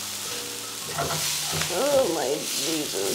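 Fish frying in butter with garlic in a pan, a close steady sizzle running throughout while a person talks over it.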